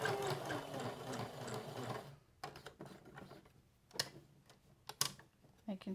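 Sewing machine stitching a magnetic bookmark: a dense mechanical whir at first, then stops, leaving scattered ticks and clicks from handling the fabric and machine, fairly close and quiet.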